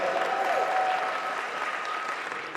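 An audience gives a sustained round of applause after a percussion camp performance, dense clapping from a crowd.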